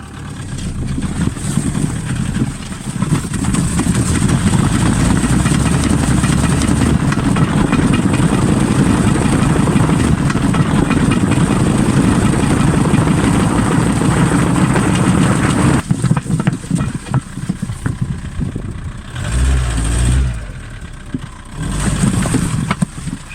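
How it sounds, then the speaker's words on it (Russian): A sports car rolls along on a flat tyre at about 60 km/h, a continuous loud engine and road drone with tyre rumble that holds for most of the run, then eases and thins out near the end with no talk. "давайте едем дальше теперь со скоростью 60 км 500 метров. И посмотрим, что будет дальше с колесом."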